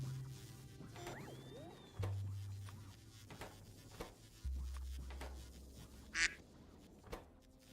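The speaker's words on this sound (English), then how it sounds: "I heard that duck before." A single duck quacks in a short burst partway through, fairly faint over a quiet game soundscape with low droning hums and scattered clicks; no one talks.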